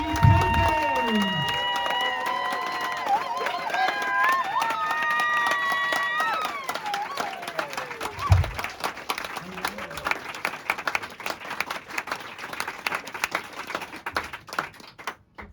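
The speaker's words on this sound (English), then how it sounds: "And everybody else start clapping." Crowd at a stand-up comedy show in a bar claps and cheers, dense clapping under a comedian's speech and scattered whoops, thinning toward the end.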